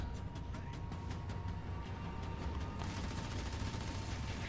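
Steady crackle of ground-troop gunfire in the Halo Wars 2 strategy game, dense repeated bursts running continuously at moderate level under a constant battle din, no talk.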